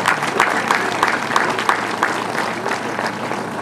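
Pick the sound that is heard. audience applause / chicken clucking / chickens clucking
audience applause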